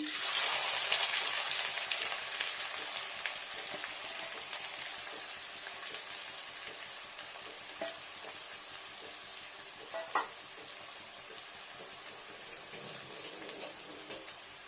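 Chopped onion sizzles steadily in hot oil in a large aluminium kadai while chicken kosa is cooked, a broad crackling hiss throughout with a few louder pops and stirring clicks near the end.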